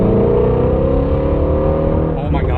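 Shelby GT350R on its stock exhaust, revving with a loud, steady, deep engine roar that holds close and constant for a couple of seconds before easing slightly at the end.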